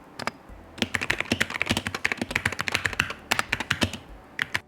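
Rapid clacky keystrokes from a Wooting 60HE 60% mechanical keyboard, typed in quick uneven bursts, close and clear with no talking.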